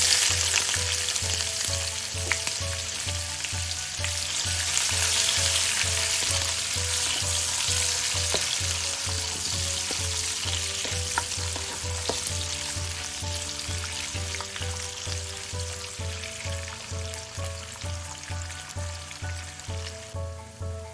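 Onion and dried red chillies fry steadily in hot oil with cumin seeds, a dense continuous sizzle with crackle throughout, while a low rhythmic hum and faint background music run underneath; no one speaks.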